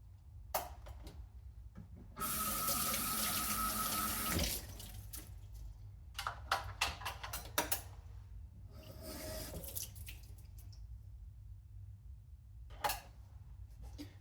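Tap water runs steadily into a kitchen sink for a couple of seconds during dishwashing, followed by scattered clinks, splashes and handling noises close by.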